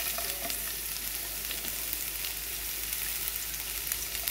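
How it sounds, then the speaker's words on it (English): Onions frying in about a tablespoon of oil in a pan, a constant crackling sizzle with soft spatters and light stirring, close and steady with no talking. "Adding onions to the oil."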